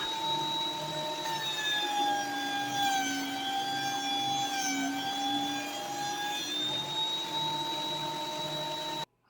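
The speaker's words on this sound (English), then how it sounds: "then it was off to the planer and I gave each of them about 4 passes" A wood planer thicknesses boards from 1 1/8 inch down to 1 inch, giving a loud, steady motor whine with a sustained high-pitched tone that dips slightly mid-pass before stopping abruptly at the end.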